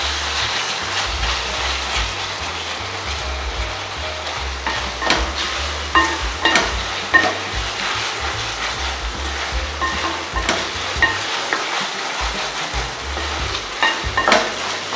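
Chopped tomatoes frying with sautéed onions for a greens and mutton curry, loud sizzling with repeated scraping stirs and clatters of a spatula against the pan.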